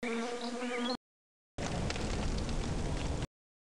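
Forest bees buzzing in a steady, close, dense drone that stops abruptly partway through; a brief tonal, harmonic sound comes first, before a gap of silence.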